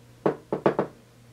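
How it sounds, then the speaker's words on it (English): Four soft dabbing taps of a makeup brush against the face, two spaced apart then a quick pair, close and quiet in an otherwise still room. "That's why you hear me like dabbing, so it doesn't come too much on the brush."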